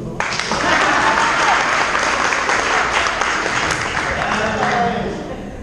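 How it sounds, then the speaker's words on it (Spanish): Loud, lively applause from a crowd at a 70th birthday celebration, with voices mixed into the clapping and a steady level for about five seconds. "Aplausos, por favor."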